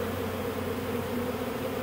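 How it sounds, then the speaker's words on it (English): Swarming honey bees fan at a new home site, making a dense, steady buzzing hum that stays even and moderately loud across the short stretch, with no voices. "Look how they're fanning immediately."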